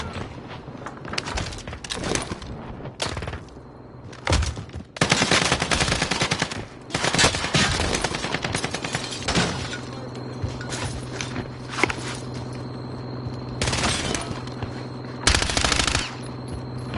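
Rapid automatic gunfire from the player's weapon in Modern Warfare, loud close bursts of repeated shots broken by short pauses, with mechanical clicks between volleys.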